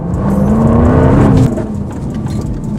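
A Jaguar XKR's supercharged 5-liter V8 revving loudly up close, a rising tonal engine note with supercharger whine that climbs, then drops off abruptly into a lower idle-like rumble.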